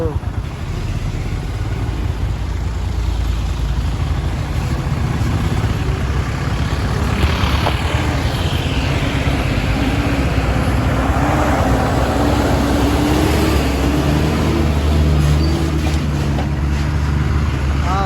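Vehicles travel along a dusty forest road in Mudumalai, with a steady, loud engine rumble that stays close throughout, wind buffeting and people talking over it.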